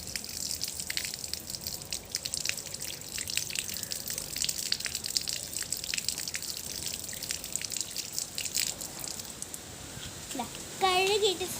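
Mangoes are rinsed under running water, with a faint steady splash and trickle throughout and a short voice heard near the end.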